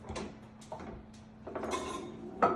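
Canned peach pie filling is mixed with a spatula, giving a few soft scraping and clinking strokes against the container separated by brief pauses, close and fairly quiet, with no talking.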